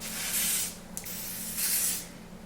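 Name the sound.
lace spray being sprayed on a wig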